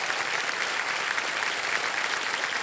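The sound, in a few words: studio audience applause welcoming contestant's father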